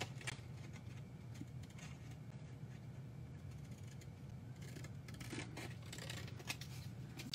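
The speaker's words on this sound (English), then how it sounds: "you cut this out, that tab out, and then we cut this out here, and we cut this out here" Scissors cutting out a paper house-shaped treat box template, a steady soft snipping and rustling of paper close by with low background hum, no talk.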